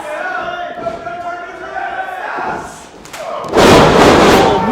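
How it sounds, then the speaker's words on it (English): A pro wrestler hits a missile drop kick off the top rope in a wrestling match, a heavy thud into the ring followed by a loud crowd roar, with an excited commentator talking over it. "Missile drop kick."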